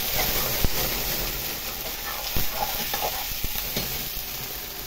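Spiced food sizzling and frying in a pan, a steady close hiss with occasional stirring clicks and scrapes, no one talking.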